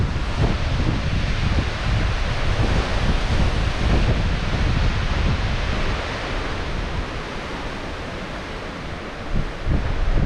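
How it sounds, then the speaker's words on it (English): Strong, gusty wind roars across an open forest campsite in Colorado's Arapaho National Forest, a loud, continuous broadband rush buffeting the microphone, easing slightly toward the end with a brief gust surge, no voices. "I don't think I'll be able to cook at all with this wind"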